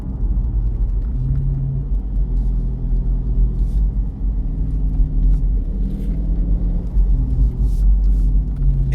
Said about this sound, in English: we're gonna see how this big sedan does in the curves